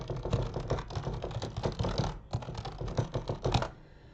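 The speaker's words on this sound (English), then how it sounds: "I like typing." Rapid, close clatter of fingers typing on a computer keyboard, an uneven run of key clicks with one brief pause midway, alone and fairly quiet.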